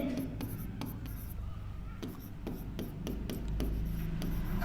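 Marker or chalk scratching across a board while equations are worked out, a run of short rubbing strokes and taps repeating irregularly under a low room hum, close and moderately loud.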